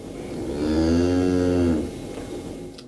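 A single long, loud moo from cattle in a barn on a Fukushima farm, swelling and then fading over about two seconds, with no voices.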